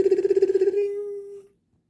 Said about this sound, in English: Then she heard a meow.